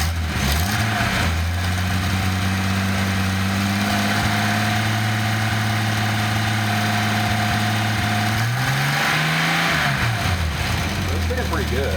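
A Datsun 280ZX turbo engine runs under throttle, holding a steady, loud mid-pitched drone that rises briefly near the end before settling, with mechanical noise close by.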